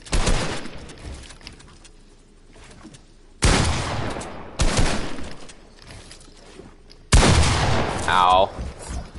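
Gunfire in the video game Fortnite, loud bursts of shots cracking out in three separate volleys with quieter gaps between them, a voice breaking in briefly near the end.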